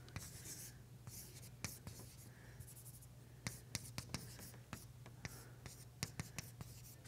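Chalk taps and scratches on a board during a maths lecture, a series of sharp clicks and short strokes, faint and fairly close, with soft background noise and no clear talk.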